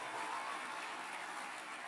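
Applause from an audience at a Hudson County Community College commencement, a steady, even wash of clapping that stays faint and distant from start to finish.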